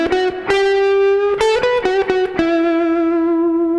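An electric guitar plays a blues lick that blends major and minor pentatonic scales, with sustained, bent single notes and sharp picked attacks, a few quick phrases followed by a long held note, loud and alone.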